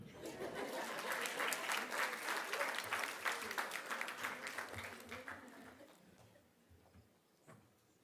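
An audience at a closing plenary session bursts into applause, dense clapping building quickly, holding, then tapering off to scattered claps and quiet room sound.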